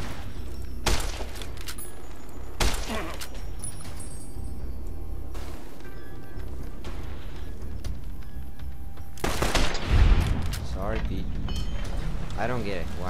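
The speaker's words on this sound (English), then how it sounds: "Why did he shoot me?" Sharp gunshots in Fallout: New Vegas, a few loud isolated cracks spaced apart over ambient game noise, with someone talking throughout.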